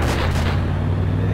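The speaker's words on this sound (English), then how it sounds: "He's shooting at me, what the fuck?" Continuous loud gunfire and booming shots in a video game, dense and rumbling with no clear gaps between the blasts.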